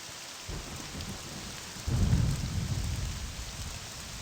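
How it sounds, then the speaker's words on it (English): Rainstorm in the video game Morrowind: steady hiss of falling rain, then a deep rolling thunder rumble swells about halfway through and lingers; no voices. "I like the rain"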